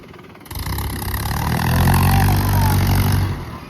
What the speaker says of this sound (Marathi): ट्रॅक्टरचा आवाज राहिला चालू